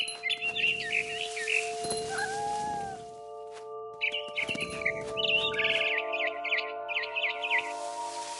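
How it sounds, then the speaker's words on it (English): A barn swallow chirps near its nest in the video game What Remains of Edith Finch. Bright, twittering calls come in clusters, mostly through the second half, over a sustained tonal game background. "Then I heard chirping outside my window. It was a barn swallow going back to her nest."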